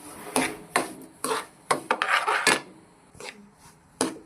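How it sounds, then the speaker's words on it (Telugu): A spoon scrapes and clinks through a rava laddu mixture with cardamom powder in a pan. It makes a series of distinct, rhythmic stirring strokes, close and fairly loud. "ఇలాచీ కొద్దిగా వేసుకున్న తర్వాత తిప్పుకోవాలి."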